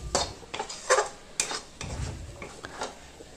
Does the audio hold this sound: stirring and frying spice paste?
yes